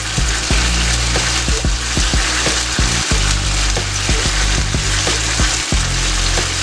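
Honey glaze sizzles on salmon over a Firebee grill, making a loud, dense, continuous crackle with scattered sharp pops and a few scraping touches.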